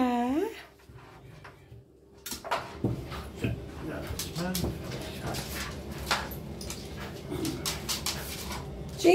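A puppy whimpering, thin high whines and yelps that come and go close by, mixed with soft rustling and bumps and a person speaking.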